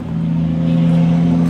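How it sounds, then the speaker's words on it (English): A truck passing by outdoors, a brief, loud, steady engine hum with a strong low tone, close and sustained for the whole moment, with no voices. "Come on, truck."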